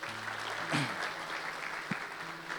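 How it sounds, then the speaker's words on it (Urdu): A church congregation applauds in a steady, moderately distant wash of clapping, fairly faint. "زوردار تالیاں دونوں کے لیے."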